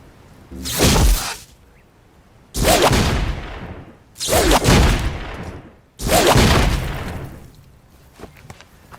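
Four loud rifle shots fired one after another at a target roughly 60 to 70 yards downrange, each a sharp blast with a trailing echo, evenly spaced about two seconds apart.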